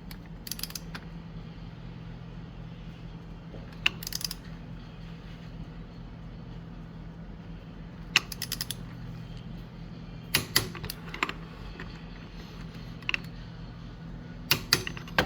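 A torque wrench set to 39.8 foot-pounds tightens a bolt on a Yamaha Vino 125 scooter, giving short bursts of ratchet clicking repeated several times over a steady low background hum.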